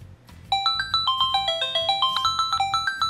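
A phone set ringing by a CareGo personal alarm's find-the-phone feature plays a bright, repeating electronic melody of quick pinging notes, clear and steady after a brief quiet start.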